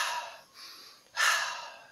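Two long, airy breaths, a softer inhale then a stronger, louder exhale, close up with no talking.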